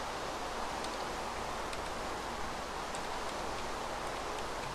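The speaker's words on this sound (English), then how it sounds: "and then we'll get rid of this stupid rain." Steady rain falls in the video game Minecraft, a dense, even hiss of droplets with faint ticks scattered through it, unbroken and with no one speaking.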